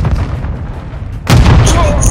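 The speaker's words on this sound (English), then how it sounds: "Grenade, watch out!" Grenade blast during a Hardpoint multiplayer match in Call of Duty Modern Warfare II, a single loud, close boom bursting out after a rumbling in-game background, its rough roar carrying to the end.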